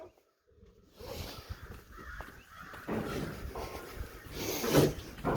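Several crows caw repeatedly from a short distance in an outdoor yard, harsh calls overlapping irregularly and growing louder toward the end, mixed with faint rustling and bumps.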